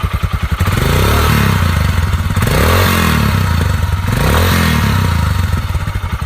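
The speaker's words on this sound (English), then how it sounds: "the bike also sounds great, I think. And single cylinder, 400cc." A single-cylinder 400cc Royal Enfield Himalayan motorcycle engine with stock exhaust thumps loudly and close by, revving up and down several times in a rough, pulsing rhythm.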